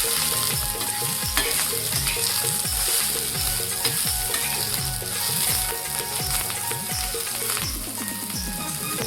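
Garlic and coriander roasting together in a pan for a chicken masala paste, a steady sizzle beneath rapid rhythmic scraping strokes of a spatula, close and continuous, with no talking.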